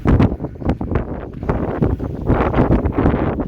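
Strong wind gusts roar and buffet among the rocks at the cave city in Italy, with loud, uneven surges of rumbling microphone wind throughout and no talking.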